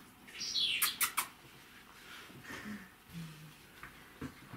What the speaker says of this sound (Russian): Люблю очень песни птиц сейчас.